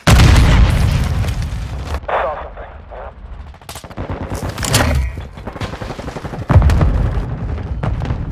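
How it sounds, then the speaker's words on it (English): A frag grenade explodes amid heavy gunfire in a Call of Duty Modern Warfare II Domination match, with sharp booms, rapid automatic shots and in-game voice callouts overlapping over several seconds. "Incoming frag."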